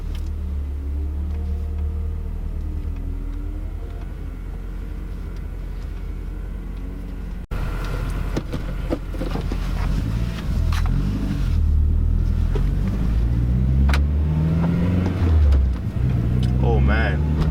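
An 8th-generation Honda Civic Si fitted with a Hybrid Racing short shifter. The engine drones steadily inside the cabin, then rises and falls as the car pulls away and works through the gears, with people talking over it.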